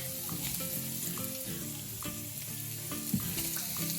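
Beef sausage and vegetables with garlic fry in a pan for fried cabbage, giving a steady close sizzle with light scraping and stirring clicks throughout and no talk.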